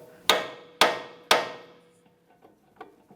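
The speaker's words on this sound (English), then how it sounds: "you could use a hammer and just give the lower control arm a couple taps" A hammer strikes a car's lower control arm three times in steady succession to break the ball joint free on a 2003-2007 Honda Accord, sharp metallic blows ringing out, followed by a few faint knocks.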